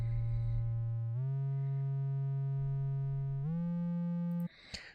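Sustained synth arpeggio with release set to maximum, each smooth tone gliding straight into the next with no gap, three pitch steps rising over a few seconds before a brief noisy burst at the end.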